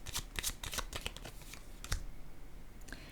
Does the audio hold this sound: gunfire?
no